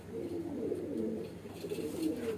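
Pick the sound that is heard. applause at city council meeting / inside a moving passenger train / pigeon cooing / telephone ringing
pigeon cooing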